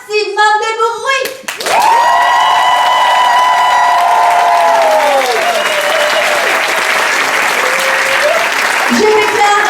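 A burlesque show audience erupts into loud, sustained applause and cheering mixed with shouts and whistles, making as much noise as possible; a voice speaks briefly before the roar starts and again at its tail.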